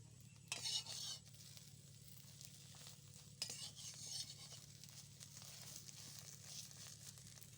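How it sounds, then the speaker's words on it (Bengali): Bread dipped in egg frying in a pan, a soft steady sizzle with a couple of brief crinkling bursts near the start, quiet and close with no talking. "এরপর ওর মধ্যে রুটি দিয়ে এটাও ভালো করে ভেজে"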